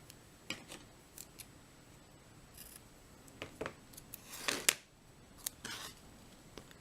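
Scissors snip ribbon at an angle in a quiet room, several short separate cuts scattered over the clip, with one louder, longer cut near the middle.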